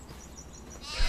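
Goats bleat in Farming Simulator 25 on a farm with goat milk and wool production, short animal calls repeating quietly through a farm ambience, then a louder rustle near the end.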